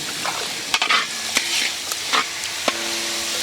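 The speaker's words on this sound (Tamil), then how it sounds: "காய் சேர்த்து நல்லா வதக்க போகிறோம்." Vegetables and onions being stirred and sautéed in a pan for a village-style dry fish curry: steady sizzling frying with repeated scraping stir strokes and clinks, close and fairly loud, no talk.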